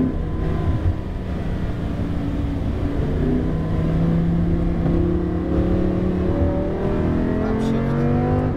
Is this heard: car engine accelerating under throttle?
yes